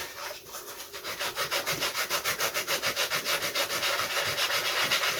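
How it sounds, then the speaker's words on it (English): Hand sanding of a wooden model of an odd pre-WW1 RC aircraft: steady, rhythmic back-and-forth rasping strokes close up, evenly paced throughout, with no talking. "it also allows me to sand right down almost to the same surface level as the 1/32"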